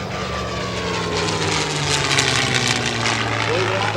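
A WWII-era propeller fighter aircraft flies past at an air show. Its steady, loud engine drone runs throughout and swells slightly toward the middle, with faint voices under the noise.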